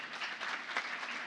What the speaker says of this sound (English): You should all have a round of applause.